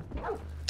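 A dog barks and whimpers in Call of Duty: Black Ops 4, one brief close yelping bark over game noise.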